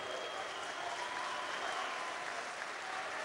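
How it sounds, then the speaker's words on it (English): Boxing crowd applauding and cheering for a fighter between rounds, a dense steady wash of clapping that sounds somewhat distant and continuous throughout. "Crowd standing to cheer him on."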